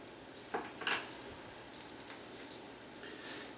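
Minced garlic sizzles faintly in a pan over medium heat, a soft crackling hiss with a few brief pops early on.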